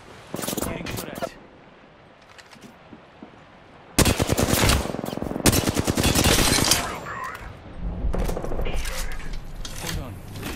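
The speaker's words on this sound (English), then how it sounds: "Getting shot at." Loud rapid automatic gunfire bursts in the battle-royale shooter Apex Legends, with a quieter lull before a sustained close barrage and later volleys, while a player talks over the shooting.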